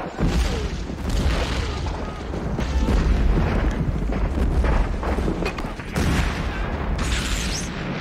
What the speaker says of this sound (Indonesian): ledakan masih menghantam tanpa ampun di mana-mana